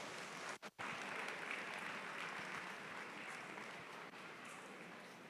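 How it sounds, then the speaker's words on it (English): A crowd applauds at a Brahman cattle show, a breed show for female cattle at the Houston livestock show, with even, continuous clapping heard from a distance and at low volume. "Let's give them a big round of applause."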